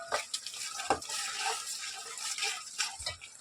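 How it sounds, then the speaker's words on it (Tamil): Soft scraping and swishing of a spoon stirring food in a pan, with occasional light knocks, close and moderately quiet. "நல்லா கிளறி விடணும்."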